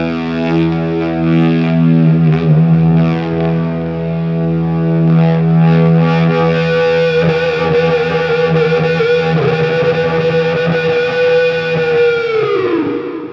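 Electric guitar with distortion run through an Axe-Fx III modeler, held notes swelling into sustained harmonic feedback that rises over several seconds and cuts off at the end, loud and continuous with no talking.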